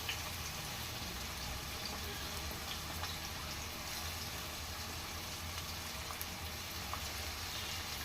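Onions, green chillies and curry leaves frying in hot oil for a Sunday special prawn curry, a steady dense sizzle with faint crackles throughout, even and close, no talking.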